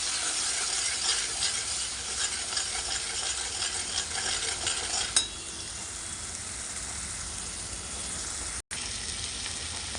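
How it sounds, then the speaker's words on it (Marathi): Spices sautéed in hot oil for a drumstick curry, a dense continuous sizzle and crackle close up, louder and busier at first then settling to a steadier frying hiss, with no talking. "आता आपण मसाले परतून घेणार आहोत."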